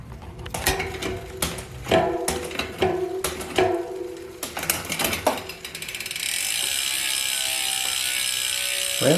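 Clicking ratchet-and-pawl sounds as a Garbaruk 12-speed cassette is fitted onto a Microspline bike hub, close and alone in uneven bursts of metallic clicks, then a steadier whirring rattle near the end.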